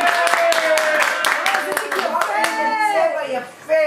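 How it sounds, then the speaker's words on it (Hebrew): Rhythmic hand clapping from a group at a birthday party, with children and adults chanting and cheering loudly over the beat close to the mic. "כפיים לאביב! כפיים לאביב"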